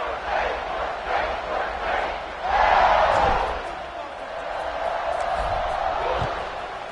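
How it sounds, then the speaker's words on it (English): A stadium crowd at a college football game makes a loud, constant roar with rising swells of cheering, heard from within the stands while a broadcaster talks over it. "this crowd is buzzing after that last score"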